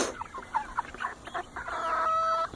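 A backyard chicken clucks in a run beside ducks, a string of close, choppy clucks that rises into a longer drawn-out call near the end.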